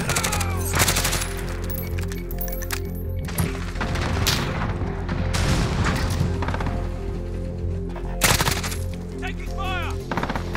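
Rapid rifle fire from a Grau 5.56 in the video game Modern Warfare, loud and continuous bursts with booming impacts filling most of the clip over dense game noise.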